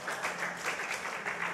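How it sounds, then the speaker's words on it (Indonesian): Church congregation applauding during a sermon, a steady wash of many hands clapping together, moderately loud and without speech. "Sekali lagi berikan tepuk tangan buat Tuhan."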